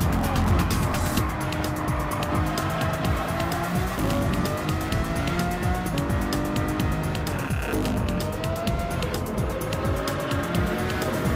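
Race cars lap Monza in a racing video game, with loud continuous engine roar that rises and falls as gears shift, and occasional tire squeal.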